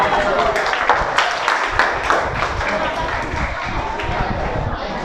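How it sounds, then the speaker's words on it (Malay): An audience claps in a classroom session, a dense wash of applause running steadily throughout with little pause. "Bagi tepukan."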